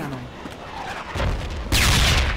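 Mortar and small-arms fire in the military shooter Project Reality, on the Karez map in an offensive battle: heavy booming blasts that build and grow louder toward the end, layered with distant gunfire and voices over team chat.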